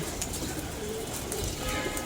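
Pigeons back on the loft after landing coo softly now and then against a steady, noisy background, with no talk over them.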